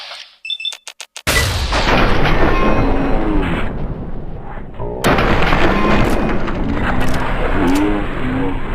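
Gunfire in the video game Fallout 3, a dense, sustained barrage of shots and explosive bursts following a few short clipped sounds, loud and continuous with brief rising tones over the din.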